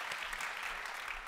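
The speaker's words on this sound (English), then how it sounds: "Round of applause for Michael." An audience at a VR keynote panel breaks into a round of applause, a dense wash of clapping heard at moderate distance without pause.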